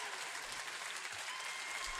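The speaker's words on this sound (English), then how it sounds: "let's give our voices of VALISTHEA one big last round of applause" Steady, dense applause from a convention panel audience at PAX West, after a Final Fantasy XVI voice-actor panel. It is a continuous broad wash of clapping with no talk over it.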